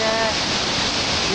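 A dense, continuous roar of rushing water fills the whole clip, loud and unbroken, from Victoria Falls heard close by on the Zambian side.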